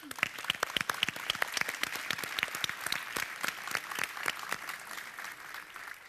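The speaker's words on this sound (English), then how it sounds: "offer a round of applause for this panel" Audience at a business summit in Uruguay applauds a panel, a sustained burst of clapping from a moderate crowd that fades toward the end.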